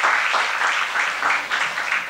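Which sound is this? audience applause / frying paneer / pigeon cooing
audience applause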